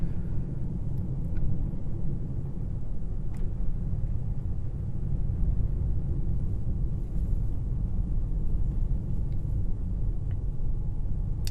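A Tesla running FSD version 14.2.1 on snowy roads gives a steady, low interior road rumble with tire and wind noise. It stays even and unbroken throughout, with no talking.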